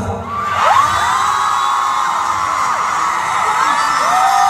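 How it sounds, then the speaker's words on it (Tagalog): A concert crowd in Singapore shouts, whoops and cheers at full volume, a dense sustained roar with shrill high voices rising and falling throughout. "Pwede ba natin i-try na sumigaw?"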